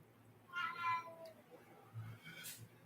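A cat indoors lets out one drawn-out, wavering meow close by, followed by a shorter faint cry and quiet room noise.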